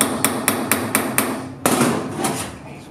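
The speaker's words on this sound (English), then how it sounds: "Pounding it in, try to get the paint out of it." A hammer taps repeatedly on a screw in a Keihin FCR motocross carburetor, six evenly spaced sharp metallic knocks followed by a heavier blow and rattling, close and loud.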